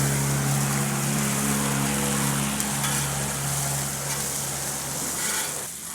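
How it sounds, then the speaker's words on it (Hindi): Ginger and onions sizzle steadily in a hot pan while being gently stirred for black chickpea chaat, a continuous loud frying hiss with soft scraping throughout and no voices. "अदरक डाल दिया है, इसको भी चला देते हैं हल्का हल्का।"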